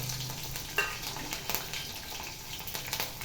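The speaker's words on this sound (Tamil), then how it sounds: "எல்லாம் பொரியட்டும்" Chana dal, chopped ginger and slit green chilies frying in hot oil in a pan for raw mango rice, a steady close sizzle with a few brief clinks and stirring scrapes.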